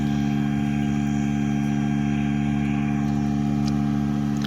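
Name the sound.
Massey tractor engine running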